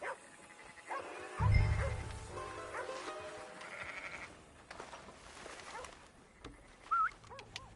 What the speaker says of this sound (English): That's a dog in there.